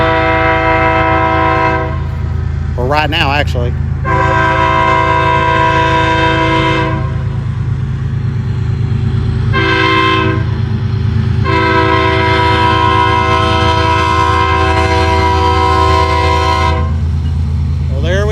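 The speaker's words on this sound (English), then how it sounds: "The train is coming. It's going to get super loud here in just a second." A loud train horn blares in long blasts over the steady rumble and clatter of passing rail cars in Channing, Texas, with a brief voice speaking early on.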